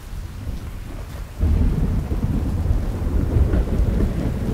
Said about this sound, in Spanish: En la calle, los truenos amenazaban con ferocidad la noche